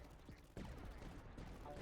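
Headquarters cannons fire in the video game Tower Dominion, a sharp blast landing about midway and then a dense, continuous rumble of gunfire that stays loud to the end.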